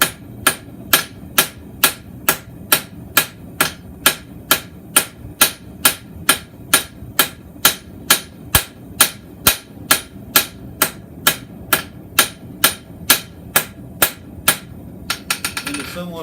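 Hammer blows on hot steel drawing out a shucker blade on the anvil, a steady rhythm of sharp ringing strikes roughly twice a second, close and loud, ending in a quick flurry of lighter taps.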